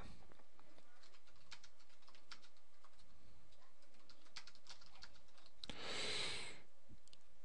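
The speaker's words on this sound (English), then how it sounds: "I can click and then just begin to type" Faint, steady tapping of a computer keyboard, a run of light quick keystrokes with a brief louder hiss near the end, recorded quietly and with no talk.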